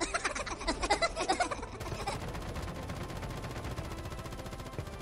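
Rapid automatic gunfire from Call of Duty Mobile in zombies mode, played on a Redmi Note 9 Pro Max, comes in dense close bursts for about two seconds, then continues as a steady stream of shots.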